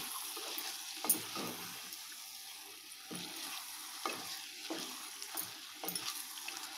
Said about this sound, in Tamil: சிக்கனை சேர்த்து நல்லா வதக்கிக்கலாங்க.